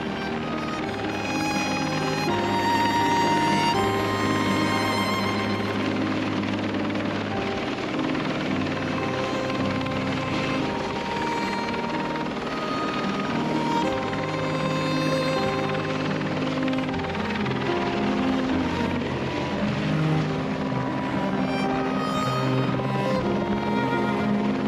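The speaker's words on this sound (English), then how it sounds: "so the helicopter knows where to come." A rescue helicopter arrives over sand dunes with a loud, continuous rotor thump and engine whine that stays steady and close for the whole stretch, no voices over it.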